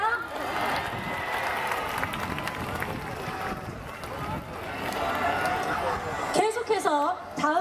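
Outdoor crowd applauding a K-pop group at a Korean district festival concert, a broad wash of clapping and cheers, with a voice speaking over it near the end.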